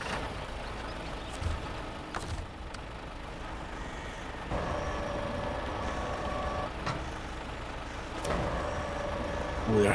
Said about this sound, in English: Start the engine is always helpful for the crane.